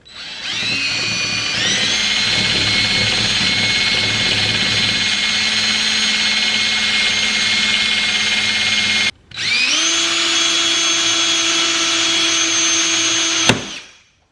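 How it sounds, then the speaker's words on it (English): A loud power drill with a 1/8-inch bit whines steadily for several seconds while drilling out a window screen clip rivet, stops briefly, then spins up again before cutting off abruptly. "we're just going to drill out this rivet"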